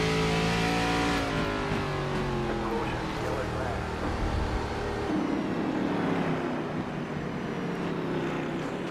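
A race car engine in a grassroots racing sim, revving loudly and steadily with its pitch rising and falling as it shifts through corners, with a voice talking over it.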